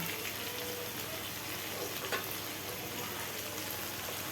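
Tengra fish fry in oil in a pan with a continuous, fairly quiet sizzle, and a brief utensil clink sounds midway.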